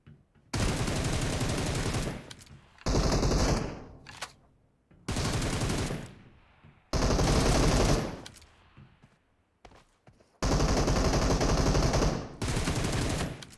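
Automatic gunfire in a video game rips out in loud, sustained bursts, about six volleys separated by short silent gaps, close and unaccompanied by voices.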